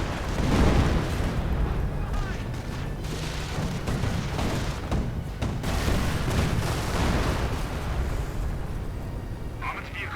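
Artillery shelling in a Company of Heroes 2v2 match between US and Commonwealth forces and Wehrmacht and Panzer Elite, heard as a steady rumble of booms and blasts running under continuous commentary.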